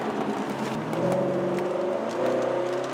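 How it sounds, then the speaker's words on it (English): A BMW 740 7 Series in sport mode gives a steady, droning exhaust tone from behind the cabin, with the pitch climbing smoothly under acceleration for a few seconds. "that's what you want to hear, that incredible exhaust tone behind you"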